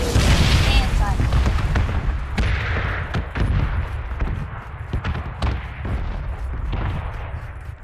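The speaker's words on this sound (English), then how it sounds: "I told you there's an airstrike." Airstrike explosions in a video game land as heavy booms and sharp blasts spread across the whole stretch, loud and dense, with voices talking over them.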